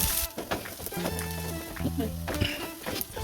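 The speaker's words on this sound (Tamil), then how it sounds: "பூண்டில் பச்சை தன்மை இல்லாமல் நல்லா வறுத்து எடுத்துக்கணும்." Crushed garlic frying in hot oil in a kadai, a steady sizzle running under continuous talk through the whole stretch.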